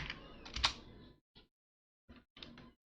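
Computer keyboard keys tapped while entering Python code, a quick burst of clicks followed by short separate clusters of keystrokes between pauses, fairly close and quiet.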